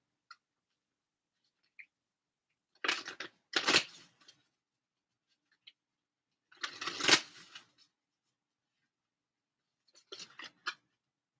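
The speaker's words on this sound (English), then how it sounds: "I want to get some cards, some moonology cards." Moonology oracle cards shuffle in soft papery bursts, two longer riffles and a few short flicks and taps, close and quiet against near silence.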